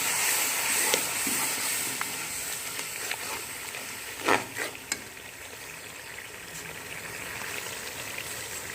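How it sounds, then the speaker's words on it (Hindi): Spices with yogurt being fried and stirred in a pot for chicken yakhni pulao: a continuous bright hiss of frying, steady throughout, with a couple of brief scraping strokes near the middle and no talking. "अब हम इसे अच्छी तरह भून लेंगे। सारे मसालों को"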